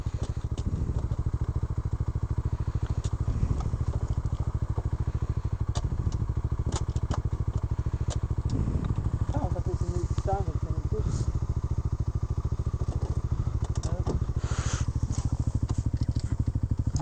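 An off-road vehicle engine runs continuously on a muddy green lane in Mid Devon, a loud steady rumbling drone with clattering knocks as the wheel spins in a rut, while people talk nearby.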